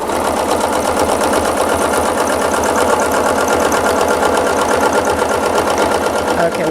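A sewing machine runs steadily, stitching ruler work on a quilted table runner: a loud, continuous mechanical whir with a fast regular needle rhythm throughout, with no pauses.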